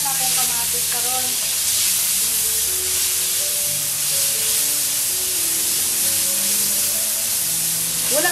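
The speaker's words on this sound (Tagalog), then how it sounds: "Bisahon na ako kamatis karon." Tomatoes sauté in a hot pan for beef sinigang, giving a loud, continuous sizzle and hiss with steady frying crackle throughout, with a faint voice murmuring beneath.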